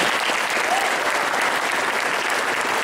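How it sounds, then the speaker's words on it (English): A conference audience applauds the panelists at the close of a session, giving a dense, steady wash of clapping from many hands that holds at an even level throughout. "can we please give the panelists another round of applause?"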